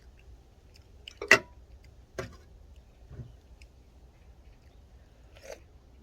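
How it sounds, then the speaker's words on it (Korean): A wild mugwort flower stalk is bitten and chewed outdoors in the cold: a sharp close crunch, then a few softer scattered chews and bites with quiet pauses between. "꽃대 먹어볼까요"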